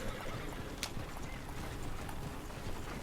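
Horse hooves in Red Dead Redemption 2 clip-clop at a trot in a steady rhythm, fairly quiet, with a brief sharp snort or whinny near the start.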